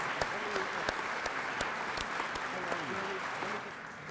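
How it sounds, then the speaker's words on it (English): Luncheon audience at a congressional celebration applauding steadily, a dense wash of clapping with a few sharp claps standing out, fading slightly near the end; faint voices murmur underneath. "praise and applause."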